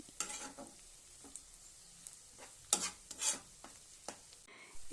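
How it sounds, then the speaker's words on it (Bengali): Onions being stir-fried in a pan for a fish curry, with intermittent scraping stir strokes and a light sizzle coming in short bursts, close by with no talking. "মোটামুটি মিনিট 5 সময় নিয়ে পেঁয়াজকে আমি ভালো করে ভাজা ভাজা করে নিয়েছি।"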